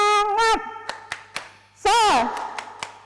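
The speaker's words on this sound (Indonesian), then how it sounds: "Tepuk semangat." Students in a classroom perform the rhythmic 'tepuk semangat' clap, a few crisp, evenly spaced hand claps punctuated by loud chanted calls from young voices.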